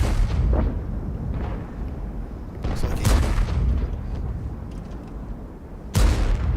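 Tank guns fire in a World of Tanks Tier 10 clan battle on the Sand River map, heavy booming blasts at irregular intervals over a continuous low rumble, with a sharp loud shot near the end.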